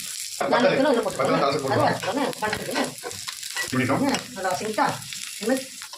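Onions and curry leaves sizzle and crackle in hot oil while someone stirs, for a mango thovayal; a person talks in Tamil over the frying throughout.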